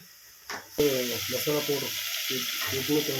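Chopped onions drop into a hot pan for egg rice and start sizzling loudly, a steady frying hiss that continues while someone talks over it.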